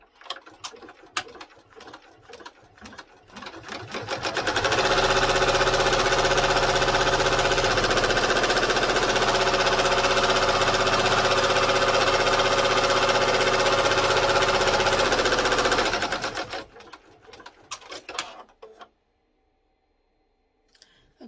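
An embroidery machine stitches a notebook cover: a loud, steady mechanical whirr and rapid needle chatter fill the middle stretch, with quieter clicks and handling noises before it starts and after it stops.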